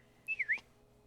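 A person whistles a quick run of three short, bright notes, close and clear over a quiet background.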